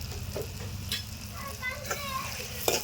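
Sambar masala powder frying in oil in a pan, with an ongoing sizzle broken by stirring scrapes and spoon clinks, fairly close and moderately loud.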